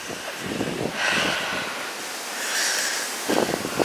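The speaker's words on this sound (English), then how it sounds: "It's very windy, we've got a storm Dennis hurtling across the Atlantic towards us" Strong gusts of wind from Storm Dennis roaring through trees in Wilbury Woods in February, swelling and easing in waves, with buffeting against the microphone.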